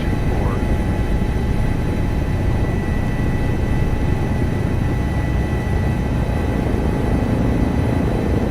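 Airbus H145 helicopter in Microsoft Flight Simulator 2024 descending to land, its steady low rotor and turbine drone filling the whole stretch, constant and fairly loud, with a voice talking over it.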